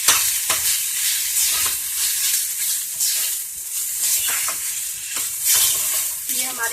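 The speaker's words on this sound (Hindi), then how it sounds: "ये हमारे सभी मसाले भून चुके हैं।" Ground spices, including coriander and chili powder, roast in a hot pan with a steady crackling sizzle, while a spoon stirs and scrapes through them in repeated close, scratchy strokes.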